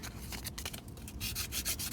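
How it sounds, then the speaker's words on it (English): Steady scratchy rubbing of sandpaper on a painted wooden surface, close up, with rhythmic back-and-forth strokes and no talking. "Now that the paint is dry, let's sand it again."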